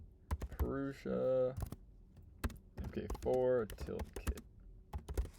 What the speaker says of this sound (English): I can also just hit N on my keyboard, and then we'll call this